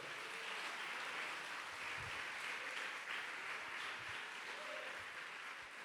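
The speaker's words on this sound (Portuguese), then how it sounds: "Aplauda ao Senhor." Church congregation applauding during a worship service, steady dense clapping that fills the whole stretch at an even level with no pauses.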